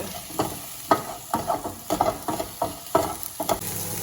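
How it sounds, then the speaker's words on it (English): Tofu sizzles in a frying pan while it is stirred, with a series of scraping strokes at an uneven rhythm, quiet and close. "the tofu is like sizzling away now"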